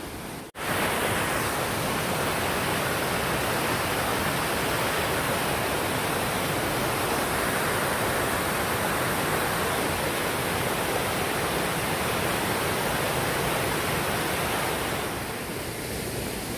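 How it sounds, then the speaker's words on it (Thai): A forest waterfall pours in a constant, loud, even rush of falling water, steady throughout with no voices over it. "ฝั่นี้ก็มีน้ำตกอีกครับเนี่ย"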